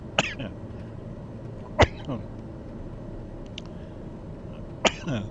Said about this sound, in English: Not ideal to have a coughing fit when you just come into land